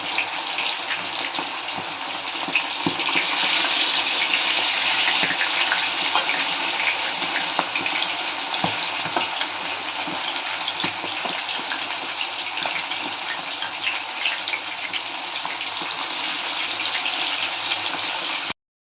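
Chicken legs deep-frying in hot oil for a crispy street-style fry, a steady dense crackling sizzle that runs loud and unbroken throughout with no voices.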